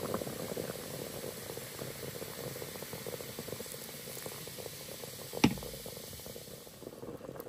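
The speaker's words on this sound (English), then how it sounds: "When bringing the pot to a boil" A pot of beef short rib stew with black beer bubbles at a boil, a soft continuous simmering hiss with faint popping and one brief louder clunk near the end, no voices.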